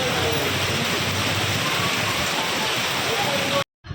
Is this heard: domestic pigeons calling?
no